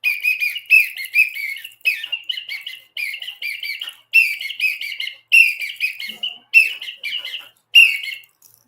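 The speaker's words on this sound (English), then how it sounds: "It is special whistle" A warbling whistle is blown in repeated bursts, each about a second long with short pauses between, loud and near.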